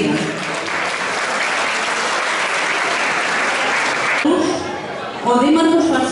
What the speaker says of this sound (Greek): Ένα θερμό σας χειροκρότημα για να υποδεχτούμε τα μικρά μας παιδιά